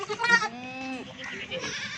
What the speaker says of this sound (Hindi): ये आपको महंगी भी और अच्छी नस्ल वाली बकरियाँ दिखा रहा हूँ।